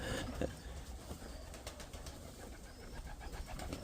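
Pigeons coo softly in a loft, low murmuring calls under a faint hiss and light rustling, quiet and fairly close, no speech.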